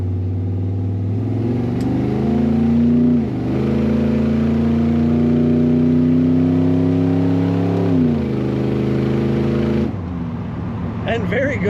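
A 1957 Chevrolet 210 street rod engine revs up and holds a steady, rising drone as it accelerates, loud and close, then drops off near the end.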